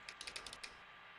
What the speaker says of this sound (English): you can see this built up of each of these digits with the relay clicking